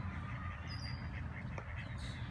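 Male mallard ducks on a pond give a brief run of quacks and honks, moderately close, over a steady outdoor background hum.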